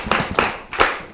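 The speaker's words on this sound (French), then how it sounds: "On va applaudir pour elle." A brief burst of applause from an audience at a Day of the African Child event, with three short bursts of close hand claps.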